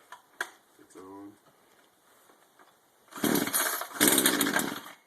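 A chainsaw being pull-started for the first time at half choke, two loud rough bursts of the starter cord and engine sputter after quieter handling noises and a short voice.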